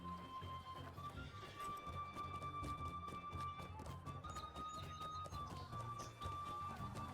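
Galloping horse hoofbeats in a video game, a steady rhythmic clip-clop running continuously over a sustained musical tone and ambient game sound.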